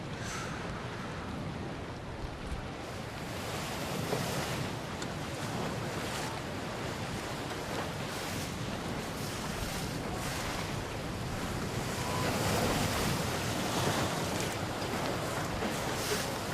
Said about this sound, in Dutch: het waait pittig